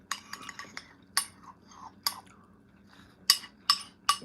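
Crunchy Fruity Pebbles cereal being chewed up close, with sharp irregular crunches and clinks over faint background hum.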